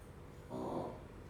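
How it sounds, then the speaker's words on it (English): A dog snores in a quiet room, one drawn-out rasping breath swelling in the middle and fading, faint and close, with no talking over it. "Wow, my dog is snoring."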